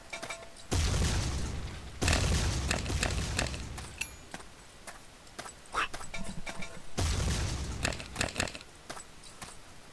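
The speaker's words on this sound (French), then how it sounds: "Une grenade." Grenade explosion in the video game Ace of Spades, booming blasts and dense gunfire bursts that come and go in loud waves, heard up close with a brief quieter stretch in between.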